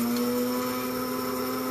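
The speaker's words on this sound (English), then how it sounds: "I'm going to do it in my little coffee grinder here because it's kind of fun to use" A small electric coffee grinder grinds oats into flour with a steady, high motor whine that stays loud and continuous throughout.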